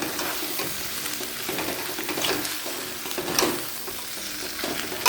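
Potatoes and paneer tossed into fried spices in a pan, crackling and sizzling steadily while a spoon stirs and scrapes at intervals, close and moderately loud with no talking.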